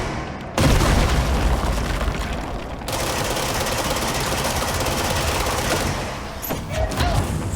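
Weapon fire in the video game Control, shooting an enemy's energy balls back at it: a dense, sustained roar of booming shots and blasts that runs loud almost the whole way, with a short gap near the start and louder bursts at the end.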